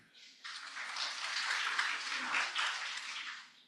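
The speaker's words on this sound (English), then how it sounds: "give yourselves a round of applause for being here" Soft applause from a crowd, steady, many hands clapping together, sounding distant and fairly quiet.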